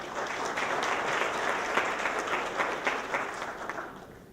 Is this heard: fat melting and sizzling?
no